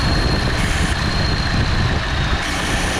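A 2014 Chevy Cruze engine idles with a steady low rumble close by, with a constant airy hiss of air being sucked in under the removed engine cover layered on top, and no talking.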